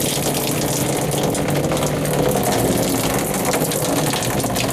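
Water running through a modified RV faucet line makes a loud, steady rushing hiss with a pump-like drone underneath, continuous and close, with no talking.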